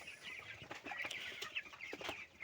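Chickens about 21 days old clucking and chirping in a poultry shed, a dense, steady flock chatter close by with no talk over it.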